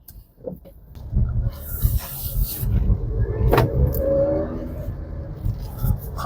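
Maruti Suzuki S-Presso VXi AMT car pulls away and drives, a low steady engine and road rumble from inside the cabin with a few faint clicks and knocks.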